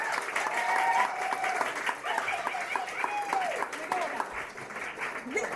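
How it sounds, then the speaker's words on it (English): Audience applause at a celebration event closes out a conversation session; continuous clapping runs throughout while a voice or two and some tonal sounds rise faintly above it. "A round of applause for both of our conversations."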